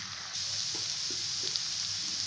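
Onions and chickpeas fry in a pan over a medium flame, giving a steady close sizzle and hiss with a few soft stirring knocks.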